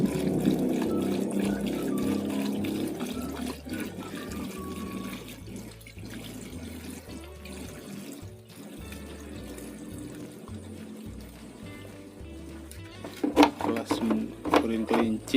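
Liquid rabbit urine, about five litres, poured into an organic fertilizer mix, splashing and trickling at first and then thinning to faint dribbles, with someone talking over it.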